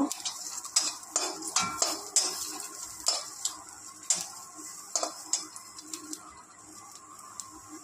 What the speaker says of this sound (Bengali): আদা নিয়ে নিলাম, পেঁয়াজ নিয়ে নিলাম, কাঁচা লঙ্কা নিয়ে নিলাম, নাড়াচাড়া করে নেব।